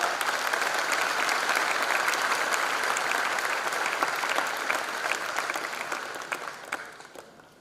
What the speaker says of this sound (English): Give a big applause.